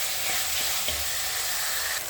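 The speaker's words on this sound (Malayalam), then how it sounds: "മഞ്ഞളും ഇട്ട് വഴറ്റി എടുക്കുകയാണ്" Onion, crushed ginger and garlic with turmeric and a little salt sauté in a hot pan, giving a steady, close sizzle and hiss that runs unbroken throughout.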